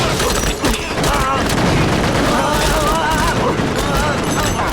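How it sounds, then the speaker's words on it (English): A burst of gunfire from a gang shootout in a crime action movie, a loud, dense, continuous rattle of shots that fills the whole stretch without a break. "After a burst of gunfire"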